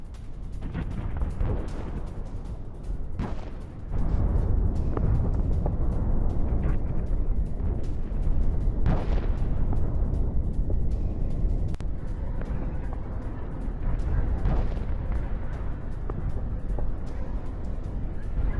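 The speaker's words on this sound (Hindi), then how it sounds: "ये एक अलग तरीके से धमाका है" A continuous deep rumble with occasional heavier booms rolling through, like distant explosions in Iran, loud and sustained throughout.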